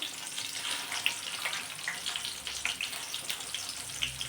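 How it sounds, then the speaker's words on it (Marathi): Ground masala and a little coriander hit hot oil for a shenga bhaji curry, giving a steady soft sizzle with scattered crackling pops, close by. "हा वाटलेला मसाला टाकायचा आहे या तेलामध्ये"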